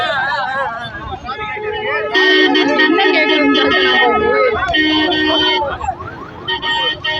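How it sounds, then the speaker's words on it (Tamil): An ambulance siren wails loudly close by, its rising and falling tones cutting through the crowd noise and shouting voices at a political street protest in Madurai. "ஆம்புலன்ஸ்"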